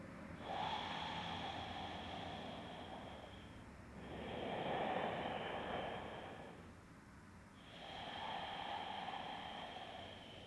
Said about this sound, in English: let's take 3 rounds of deep breath